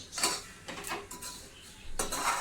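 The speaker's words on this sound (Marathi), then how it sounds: "आता आपण हे सुकं खोबरं भाजून घेऊया" Dry coconut being roasted in a pan, with a utensil scraping and clinking against the metal in irregular strokes, close and alone without any talk.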